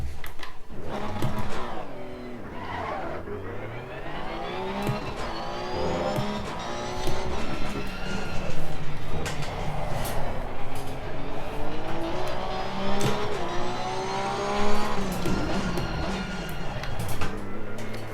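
GT race car in Assetto Corsa Competizione driving into the pits, its engine rising and falling through gear changes, close and loud and continuous, with brief tyre squeals.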